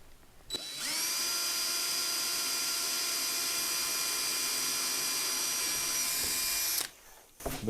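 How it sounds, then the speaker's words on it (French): Power drill boring during a wood stove installation in a workshop, a single loud, steady high-pitched whir lasting about six seconds that starts and stops sharply, with quiet room noise on either side. "Ben, ça perce bien."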